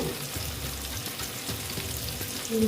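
Koi fish frying together in oil crackle and sizzle steadily at low level, close and continuous with no talking.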